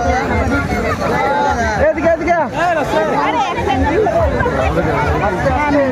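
A crowd of pilgrims on the Tarakeswar yatra during Shravan, loud overlapping voices and shouting pressing close on all sides, continuous and busy throughout.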